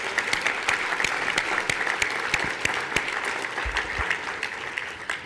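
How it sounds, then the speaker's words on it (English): An audience at an award ceremony gala dinner applauds the award committee: sustained, even clapping from a crowd with sharp individual claps standing out, loud and continuous, with a brief low thump near the end. "A round of applause for the committee themselves."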